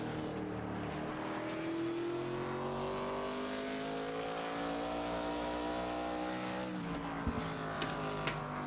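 An ARCA Series stock car on a hot lap in iRacing, its engine droning steadily at high revs with pitch climbing through gears, then a sharp drop and brief ticks near the end; no talk.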